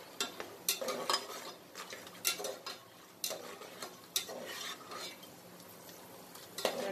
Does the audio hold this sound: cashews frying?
yes